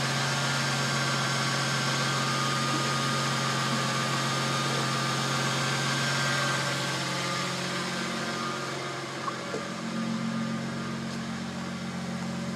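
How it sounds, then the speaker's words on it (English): A 1999 Ford Mustang V6 with a 3.8-liter engine idles steadily, its low exhaust rumble and even engine hum continuing close and unbroken, with no talking. "It has a pretty good sounding exhaust."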